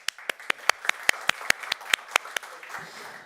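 Sparse, distinct hand claps ring out in a quick irregular run, a dozen or so sharp smacks that thin out toward the end.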